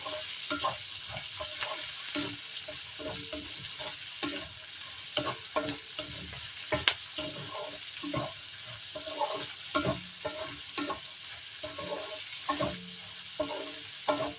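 Carrots and other ingredients for Ilocano igado stirred and frying in a pan, with a steady sizzle and repeated clacks of a utensil scraping the pan throughout, close up and with no talking.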